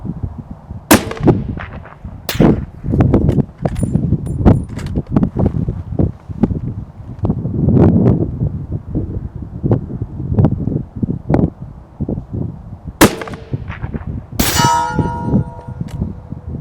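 Long-range rifle shots strike a steel plate target outdoors: a series of sharp, loud reports, each followed by a ringing metallic clang, spaced irregularly over steady wind noise.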